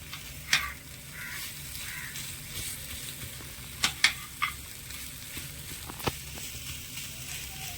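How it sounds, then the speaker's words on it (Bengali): Boiled potatoes fried with ground spices in a pan, a low steady sizzle broken by a few sharp clinks and scrapes of the spoon against the pan, fairly quiet overall. "আলুটা ভালো করে নেড়ে ছেড়ে মিশিয়ে একটু ভেজে নেবো"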